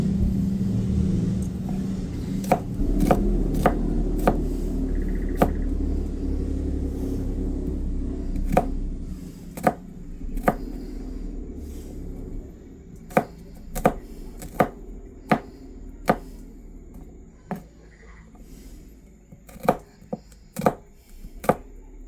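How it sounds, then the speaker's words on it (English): A knife thinly slices garlic on a cutting board in a long series of crisp, close taps that come irregularly at first and then quicken, over a low room rumble. "So you will slice up the garlic thinly."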